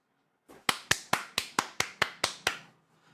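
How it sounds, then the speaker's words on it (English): Eight slow, evenly spaced hand claps ring out close and crisp during a live watch-along of a Tottenham Hotspur vs Chelsea Premier League match, each one sharp and separate, followed by quiet. "Fucking clapping again."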